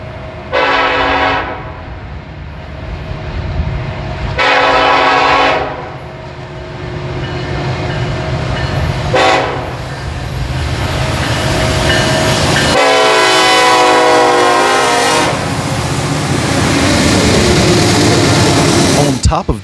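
A loud Canadian National SD70I and C44-9WL diesel locomotive pair rumbles steadily while the horn blasts several times in long and short bursts, the last one held and overlapping the engine roar.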